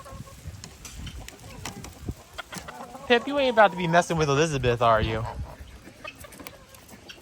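Hens murmur and cluck softly at a farm animal sanctuary, with a run of rising, warbling calls in the middle of the clip, while a person talks to the birds close by.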